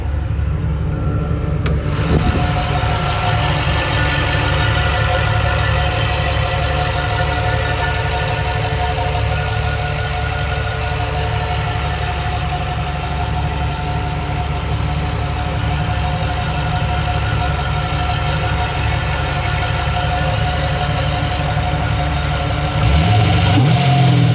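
A V8 engine swapped into a Nissan 300ZX idles steadily up close, a loud low rumble with a lumpy, even rhythm that holds throughout.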